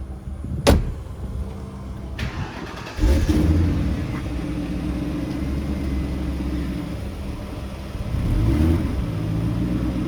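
A Rover car with a Mustang V8 engine idles and revs unevenly while struggling with the clutch, a steady low rumble that swells partway through and again near the end, with a brief knock early on.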